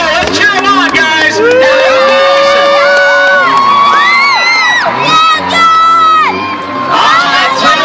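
At a Tuff Truck competition at the Yuma County Fairgrounds, a crowd shouts, whoops and cheers loudly for a rider, with excited voices rising and overlapping throughout.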